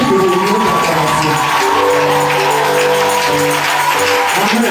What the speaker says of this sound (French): Ne soyez pas fatigués d'acclamer parce que c'est une réunion d'acclamation.